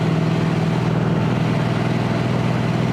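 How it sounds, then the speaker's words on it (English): A steady low engine rumble from a motorcycle ridden on twisty roads on a sunny day, constant and droning throughout with no break or rise. "rumble of the engine"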